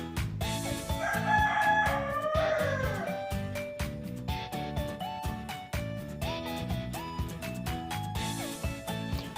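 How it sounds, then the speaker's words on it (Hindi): A pet rooster crows once over rhythmic background music with a steady beat, its call rising and wavering for about two seconds before the music carries on alone. "आप लोगों को मेरी वीडियो में मुर्गे की आवाज़ आती रहती है, जिससे आप लोग इरिटेट होते होंगे। ये मेरा पालतू मुर्गा है।"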